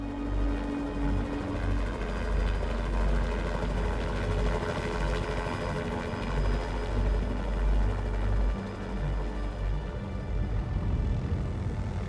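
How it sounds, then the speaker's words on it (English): A hired helicopter on an aerial rescue flight over an active volcano crater drones overhead as a loud, continuous low rotor-and-engine rumble, steady for the whole stretch with no voices. "I hear this helicopter flying overhead"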